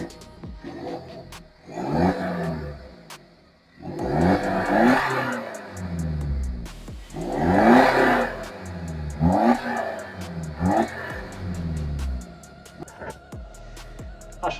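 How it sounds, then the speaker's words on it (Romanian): A BMW F10 520d diesel, tuned to stage 1 with 225 hp and already warm, cranks and fires, then revs repeatedly in sharp bursts that rise and fall, with clattering diesel idle between them, close by. "Hai să-i dăm și o pornire să auziți cum se aude."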